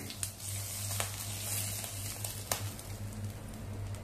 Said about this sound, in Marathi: जिरे चांगले फुललेले आपण भातावरती ही फोडणी घालूया